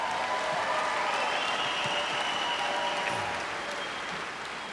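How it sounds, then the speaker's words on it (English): Large commencement crowd applauding the graduating class of 2015 at Port Huron High School, a broad, distant wash of clapping filling a big hall, steady and fading a little at the end. "Give these students another nice round of applause."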